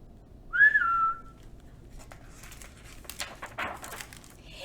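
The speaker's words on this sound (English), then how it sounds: "Suddenly, out came a real whistle." A boy gives a single clear whistled note that slides downward, followed by faint rustling and crinkling in an otherwise quiet space.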